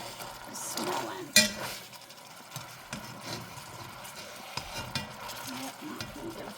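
Pot roast searing in a Lodge pan, a soft steady sizzle with metallic scrapes and a sharp clank as the meat is turned, while a person speaks quietly.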